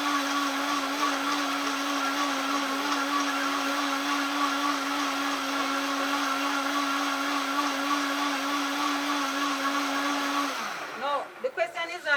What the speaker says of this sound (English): And then you will blend.